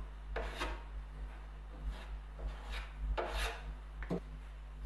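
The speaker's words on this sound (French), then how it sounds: "Un petit coup de ponçage." Hand sanding of dried wood filler over screw holes on a wooden console: a steady back-and-forth rasping rhythm of abrasive strokes, close and moderately loud, with no talking.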